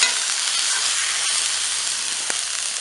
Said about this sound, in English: I'm going to go ahead and sear this up, from the outside.